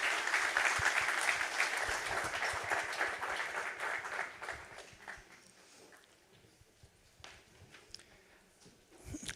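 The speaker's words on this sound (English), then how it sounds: "be given a round of applause before we go" Audience applause at a yachting technology conference in Monaco, fairly loud clapping at first that thins out and fades into scattered, sparse claps toward the end.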